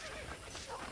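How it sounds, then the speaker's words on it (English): A horse whinnies in the Red Dead Redemption video game, a short, fairly loud neigh filling the brief moment, with faint hoof clatter and a hint of voice underneath. "I picked out a fine horse for you"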